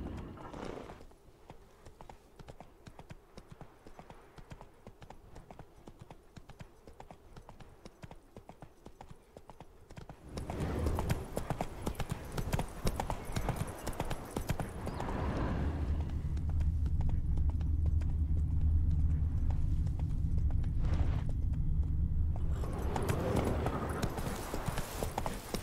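Roach, the horse in The Witcher 3, clip-clops along steadily, then breaks into a louder, faster gallop with heavy rumbling hoofbeats and a snorting whinny, close and dominant throughout.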